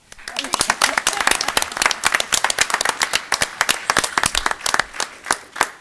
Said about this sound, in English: We can all applaud while we sit down